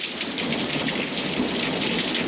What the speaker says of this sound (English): Today is like the nastiest day that you could imagine for rain out here